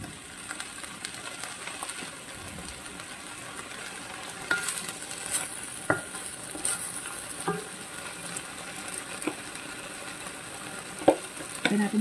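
Yakisoba noodles with Spam, vegetables and sauce stir-frying in a hot pan, giving a steady close sizzle with scattered scraping and tossing clicks throughout, no voices.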